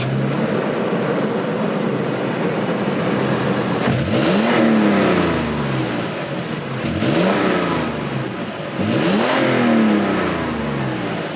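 A 2007 Toyota 4Runner Sport with the 4-liter V6 revs three times, each rev a rising then falling surge over a steady idle, close and loud with no talking.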